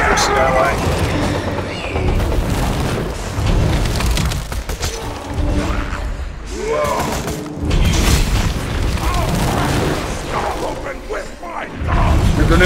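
Grenades explode in the video game Borderlands 2, loud booming blasts that crash repeatedly over dense, continuous game noise with no pause.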